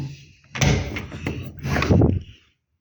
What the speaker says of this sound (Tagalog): Ito, pinto ng garahe.